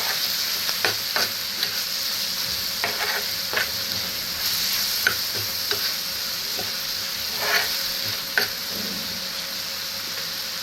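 Pieces for a paneer gravy fry and sizzle steadily in a pan while a utensil stirs them, with a continuous hiss and intermittent soft scraping knocks throughout.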